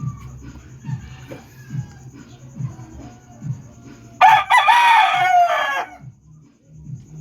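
Chickens are being fed, with steady low clucking throughout and a rooster letting out one loud, close crow lasting under two seconds, while faint voices come and go in the background.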